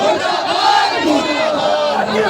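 Crowd at a public gathering over a terrorist attack on tourists in Pahalgam, Jammu and Kashmir, chanting patriotic slogans in loud unison, voices rising and falling in a rhythmic group cry, close and sustained.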